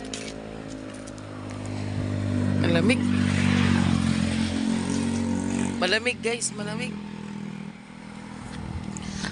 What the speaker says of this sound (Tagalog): Sasakay sa motor.